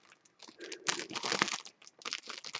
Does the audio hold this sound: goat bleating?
no